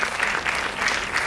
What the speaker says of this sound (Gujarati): એટલી બધી તાળીઓ પાડો કે અવાજ